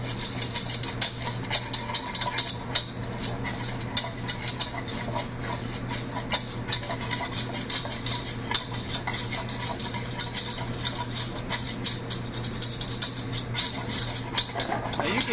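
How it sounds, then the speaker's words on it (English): A spoon stirs flour into melted butter for a roux, scraping steadily and repeatedly around a pan over a constant low hum, with no talking. "Then we're going to hit it with some flour. And whenever you're making a roux, you want to use equal parts flour to equal parts butter"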